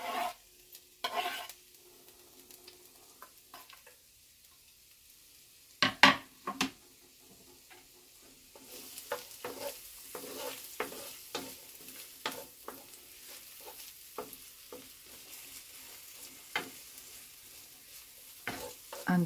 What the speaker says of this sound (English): I'm just going to saute the shallots, the chili peppers